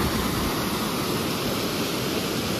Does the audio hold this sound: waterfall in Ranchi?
yes